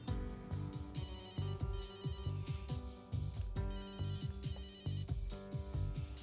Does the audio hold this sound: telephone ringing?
yes